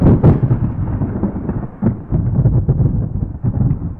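Synthesized thunder, very loud and close, a deep rolling rumble with several cracking bursts and rumbling surges over four seconds.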